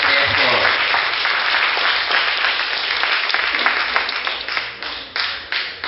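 At a yam festival, a crowd claps for a ten-year-old performer: a full, continuous round of applause that thins toward the end into separate, sharper claps, with some voices mixed in.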